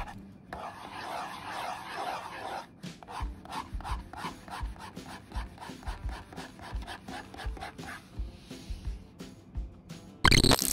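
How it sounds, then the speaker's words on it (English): Pen nib scratching and rubbing across the surface of a GAOMON S620 graphics tablet, a string of quick, close strokes in steady rhythm with a louder burst at the end. "Next, it is the drawing sound you hear when you draw on the board."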